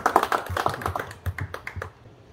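Scattered clapping from a small audience at a poetry recital, a few hands applauding unevenly and fading out within a couple of seconds.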